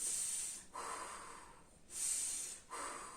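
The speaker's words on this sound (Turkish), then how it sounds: "Nefes alıp veriyorum." Slow, deep breaths during a pilates exercise on the floor, two long airy inhale-exhale cycles with a soft hissing quality, close and quiet, with no talking.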